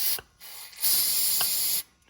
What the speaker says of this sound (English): you can spray this right on there